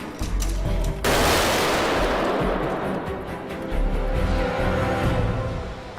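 Gunfire from an Iron Man film scene, a sudden loud blast followed by a dense roar of continuous shooting and rumble that stays heavy and close throughout.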